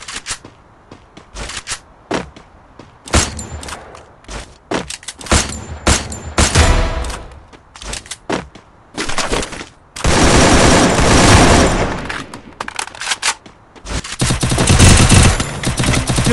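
Rapid gunfire in the mobile battle-royale game Free Fire during a ranked match, loud close shots in quick bursts early on, then long sustained automatic volleys later.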